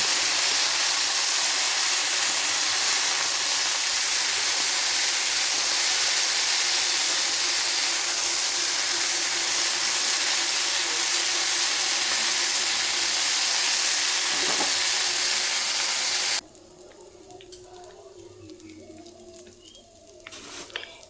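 Jujubes tossed with spices into a hot pan for a homemade jujube pickle give a loud, steady sizzling hiss for about sixteen seconds, then it drops away abruptly to a much quieter background.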